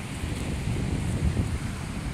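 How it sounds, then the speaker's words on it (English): Wind buffets a microphone at a beach, a steady low rumble and gusty roar with surf noise mixed in, continuous and close for the whole stretch. "It's too windy."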